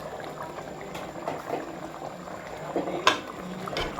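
Thick tomato kurma bubbles and simmers in a pan, with a steady, close, moderately loud blipping that carries a few sharper pops, and no talking.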